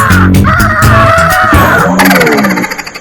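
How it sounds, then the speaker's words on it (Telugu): Crow cawing up close, loud harsh calls repeated in a rough run, ending in a quick series of shorter caws. "వడ తీసి కాలు కింద పెట్టుకొని క్వా క్వా క్వా క్వా"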